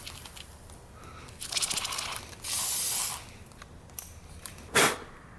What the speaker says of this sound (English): Get some WD-40 going on in here.